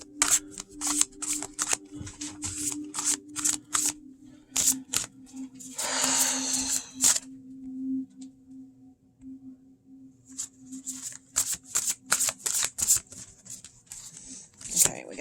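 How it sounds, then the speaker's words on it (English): Sugar Skull tarot cards being shuffled in close, rapid crackling bursts, with a longer smoother run midway and a quiet pause before the brisk shuffling resumes. "So I probably won't riffle shuffle them that much because it's just hard to get my hands around them. But they shuffle well, really well."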